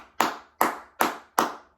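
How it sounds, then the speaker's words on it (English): Four even, sharp hand claps in steady rhythm, loud and close, used as a classroom attention signal, with no voices. "If you can hear me, clap twice. If you can hear me, clap 5 times."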